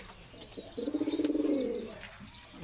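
A golden pigeon gives a close, soft rolling coo lasting about a second, with faint high-pitched chirping and hiss in the background.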